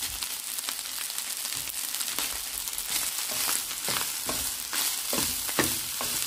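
Rice and instant noodles stir-fried together in a pan, a steady broadband sizzle overlaid with repeated scraping strokes of a spatula at an uneven rhythm, close and moderately loud with no talking.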